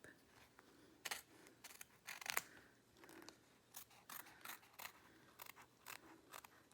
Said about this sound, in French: Et je découpe.